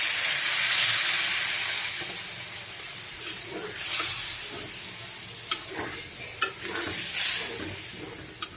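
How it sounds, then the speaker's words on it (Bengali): Fish roe frying in oil in a pan sizzles and hisses strongly as water goes in, easing to a steadier sizzle broken by several sharp pops and spatters. "এই পর্যায়ে আমি একটু পানি দিয়ে দিব।"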